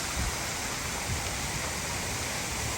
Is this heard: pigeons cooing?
no